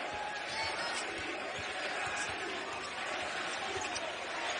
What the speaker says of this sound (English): The crowd's chanting NIT